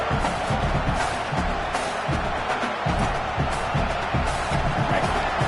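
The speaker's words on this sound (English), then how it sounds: "Listen to this crowd just shaking the girders of this place" A large football stadium crowd at a Clemson game roars and cheers loudly and continuously, a dense wall of voices.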